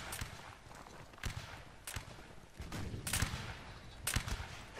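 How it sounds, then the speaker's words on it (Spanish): Musket volleys in Mount & Blade: Napoleonic Wars, with several sharp shots spaced a second or so apart over a constant battlefield din, some louder and closer than others. "Venga, vamos, seguimos disparando."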